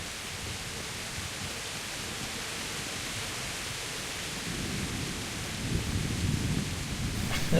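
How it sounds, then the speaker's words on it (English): Heavy pouring rain in a medieval combat video game, a dense steady hiss with a deep thunder rumble building near the end, loud and continuous. "Jesus, it is really pouring rain"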